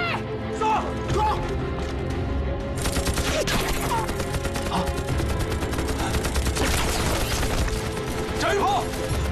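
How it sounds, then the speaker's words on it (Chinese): Gunfire rings out in a kung fu movie battle against Japanese fighters, with repeated sharp shots and clattering mechanical bursts over a dense, busy mix, joined by shouting voices. "射击！"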